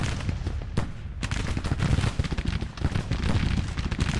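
Musket gunfire in the Civil War strategy game Grand Tactician during a Union campaign battle, ragged volleys and scattered crackling shots with occasional heavier booms, steady and moderately loud with no talk over it.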